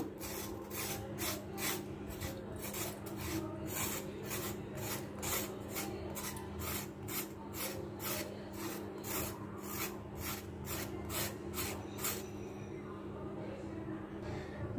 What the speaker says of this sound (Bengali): চিচিঙ্গাগুলো প্রথমে আমি এভাবে আঁচড়ে নিব।